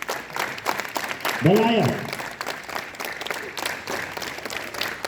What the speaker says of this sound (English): Can you hear the sound produced by your clap?